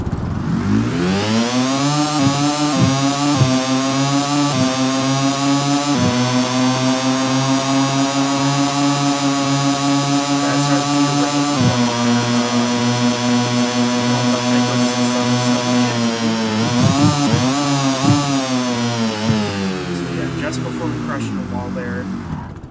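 A custom modular engine in the game Stormworks revs hard toward maximum RPM, a loud steady buzzing drone with several quick blips and dips early on, holding a high pitch before climbing and fading at the end.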